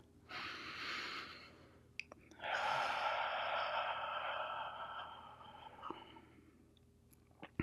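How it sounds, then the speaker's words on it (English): A person takes deep breaths in a quiet room, a soft inhale followed by a longer drawn-out exhale, close and fairly faint, with small clicks between breaths. "Everybody just close your eyes and take a big deep breath"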